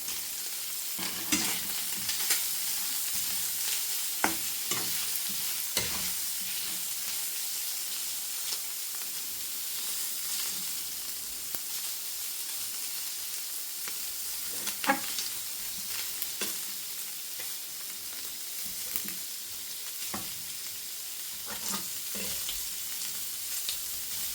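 Steady sizzling and hissing from bacon and cooked chicken frying in a pan, with occasional sharp crackles and pops, close and fairly quiet, no voices.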